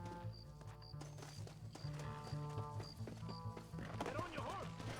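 A horse galloping in the video game Red Dead Redemption, with a steady, rapid clip-clop of hooves running throughout under a busy game soundtrack, and brief voices near the end.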